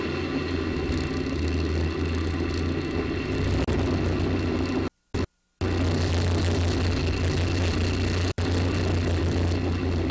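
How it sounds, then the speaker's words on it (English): Space Shuttle Discovery's three main engines burning during the STS-133 launch, heard as a steady, dense roar that runs throughout, broken by two brief dropouts near the middle. "all three engines continue to burn as expected"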